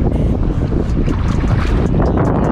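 Strong wind buffets the microphone during a canoe trip on Berlin's Wannsee in a Grabner Holiday 2 canoe, a constant loud roaring rush with gusty flutter and no speech.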